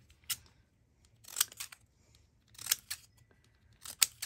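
Scissors snip through a small piece of sheer curtain fabric in four short bursts of close, crisp cutting, with quiet pauses between them.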